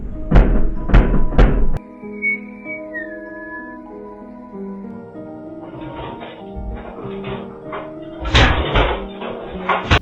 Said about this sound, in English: And of course we get drawers and cabinets opening.